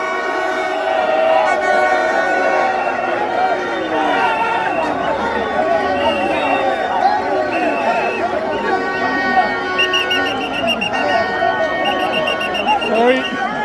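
Dense, loud crowd of Ghana football supporters in Doha, Qatar, with continuous overlapping shouting, chanting and chatter close around, plus some whistling or horn tones.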